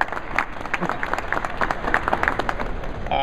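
An audience at an EPA event breaks into steady applause, a dense wash of many hands clapping that holds at an even level and then fades as it ends.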